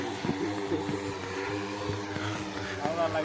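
A droning, buzzing rotor hum of an agricultural spray drone flying nearby over a wheat field, steady with slight wavering, a voice faintly under it.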